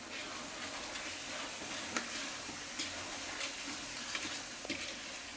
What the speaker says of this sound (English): Add a little water and mix so that there are no lumps